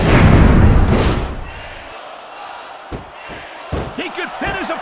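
Kurt Angle's Angle Slam in WWE SmackDown vs Raw 2006 on PS2, a heavy slam thud against the mat followed by crowd noise, with commentators talking over it.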